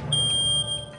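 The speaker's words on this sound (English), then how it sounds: "the photoelectric sounds the alarm" A photoelectric smoke detector sounding its alarm during a smoke test in a room, a loud, steady high-pitched electronic tone with a brief dip near the end, heard alone.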